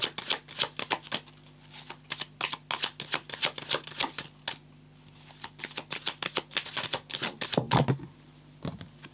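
Tarot cards being shuffled by hand during a reading, a rapid series of crisp, close riffling flicks and slaps in quick uneven bursts with no talking.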